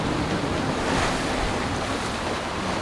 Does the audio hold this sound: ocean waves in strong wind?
yes